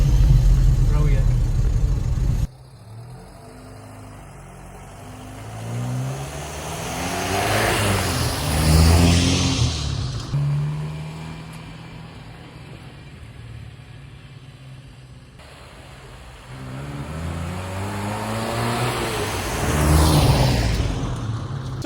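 A 1966 Ford Cortina's engine drones loudly from inside the cabin while driving, rising and falling through two swells of acceleration with gear changes, under occasional talk.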